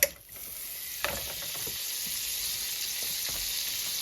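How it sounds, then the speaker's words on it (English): A chunk of butter hits a hot frying pan with a sharp hiss that settles into a steady, bright sizzle, close and continuous, with a few faint clicks and no voices. "I'm going to throw another chunk of butter in here."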